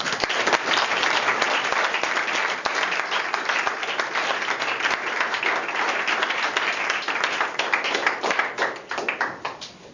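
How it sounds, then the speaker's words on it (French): An audience applauds artists at a cultural event, a loud, dense, sustained wave of clapping from many people that continues for about ten seconds before thinning slightly at the end. "Donc applaudissez pour ces artistes."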